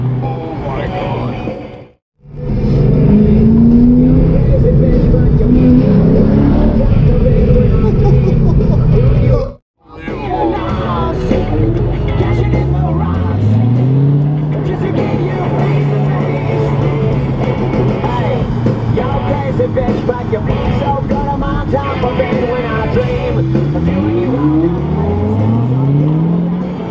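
A Ford GT supercar driven at speed behind a Lamborghini Huracan Performante, its loud engine roaring and revving steadily with rising gear sweeps, nearly continuous apart from two brief cutouts, with excited voices talking over it.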